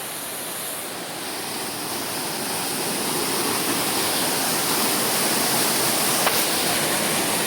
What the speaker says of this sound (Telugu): This is water falls.